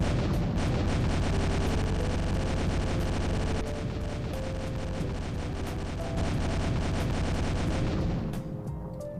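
A grenade explodes in a physics sandbox video game, followed by a dense, sustained barrage of sharp crackling blasts and rumbling debris that fades at the end, with no speech over it.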